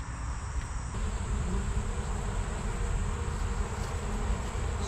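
Honey bees drone steadily around an open hive during an inspection, a dense, continuous buzz close to the microphone with no voices over it.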